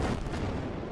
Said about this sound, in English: Needs an explosion.